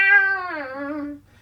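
A cat gives one drawn-out, clear meow that slides downward in pitch and lasts just over a second. It is fairly close and heard alone over a faint low hum.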